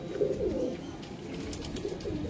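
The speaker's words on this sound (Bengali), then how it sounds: "হ্যাঁ পায়রা আছে" Pigeons, including females kept for flying, coo in low, throaty rolling calls close by, repeating throughout with no speech.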